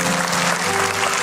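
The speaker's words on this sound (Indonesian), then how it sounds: "Kasih tepuk tangan untuk Tuhan." A large church congregation claps loudly and continuously in praise during a service, a thick, unbroken wash of applause filling the whole moment.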